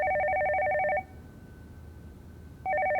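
A telephone rings loudly in a repeating electronic trill, stops for a moment, then starts ringing again.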